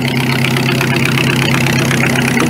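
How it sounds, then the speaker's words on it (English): A Ford 8N tractor engine idles steadily and close, a constant low, even chugging drone with no change in pace throughout. "So I got it running, just idling here."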